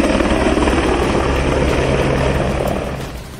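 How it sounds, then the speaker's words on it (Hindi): An army helicopter sets down on a rooftop during a security mock drill, its rotor roar loud, steady and close for most of the moment before easing slightly at the end. "जैसे ही हेलीकॉप्टर छत पर उतरा, उसके बाद सेना के जवान नीचे उतरे"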